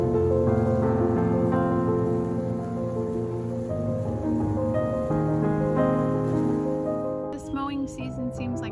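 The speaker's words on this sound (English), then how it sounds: "It's raining!" Rain falls outdoors in a steady, even hiss for most of the stretch, then thins to lighter, scattered patter near the end.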